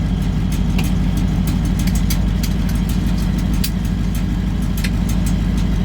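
CAT 3208T turbo diesel engine in a medium-duty truck running at raised RPM, a loud, dense, steady low rumble with a rapid pulsing beat and ticking on top, close and continuous without talk.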